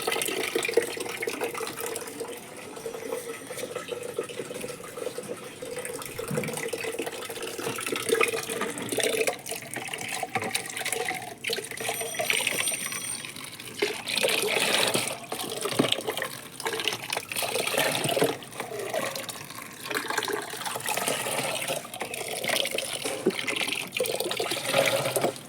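Water poured or filling a container for watering garden plants, a continuous soft splashing and trickling at close range, fairly quiet, with no talk.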